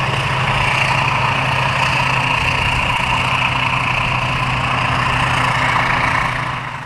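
A World War II tank engine idles at a military service day event, a loud steady low rumble with a constant mechanical drone that holds evenly throughout and eases slightly at the end.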